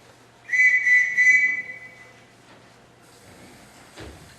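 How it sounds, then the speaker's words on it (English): A man whistles several short, bright repeated notes in a house, calling for the housekeeper, followed by quieter sliding and bumping sounds like a door or drawer. "I whistled for the housekeeper and she didn't answer."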